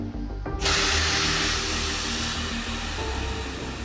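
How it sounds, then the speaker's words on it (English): Air-powered vacuum pump working inside a fuel tank during a tank cleaning job, a loud continuous broadband hiss and rush of air that cuts in abruptly and holds steady over a low rumble, with no speech. "This is the vacuum pump that works with air, because obviously you cannot work with electricity in the fuel tank."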